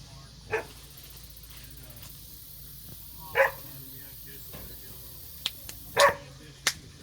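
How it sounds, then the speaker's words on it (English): A few scattered barks and yips from a dog at moderate distance, spaced irregularly, with quiet background and some talking nearby. "Doggy."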